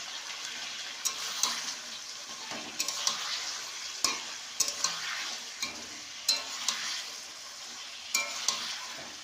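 Chili chicken pakoras frying in hot oil, a steady bubbling sizzle broken by periodic clinks and stirring scrapes as the pieces are turned, close and moderately loud with no talk.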